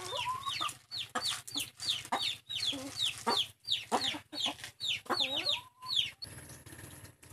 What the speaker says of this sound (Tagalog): papatukain ko muna yung mga manok dahil magugulo